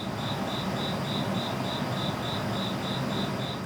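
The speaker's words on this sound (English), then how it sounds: "It will pick up crickets." Crickets chirping indoors, picked up by a microphone in a room with hard surfaces: a regular train of short high pulses, about three a second, over a constant faint background hiss.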